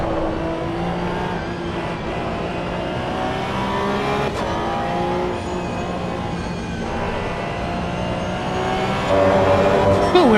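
A race car engine roars steadily in Assetto Corsa EVO at Spa, loud and continuous with shifting tones as it pushes for an overtake, rising slightly near the end.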